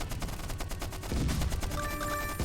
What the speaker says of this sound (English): They used artillery and it survived